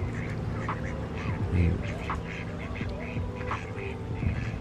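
Ducks on a farm in Farming Simulator 22 quack repeatedly in a loose, chattering series at moderate distance over steady game ambience, with a brief spoken word in between.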